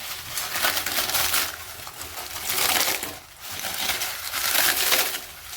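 Papad being crushed by hand into coarse pieces, producing loud, close, dry crackling crunches in repeated waves.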